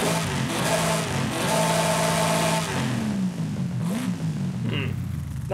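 A 1996 Chevy Impala with a race supercharger revs in Forza Horizon 5, its engine note rising and falling in loud, continuous sweeps that shift pitch as it accelerates.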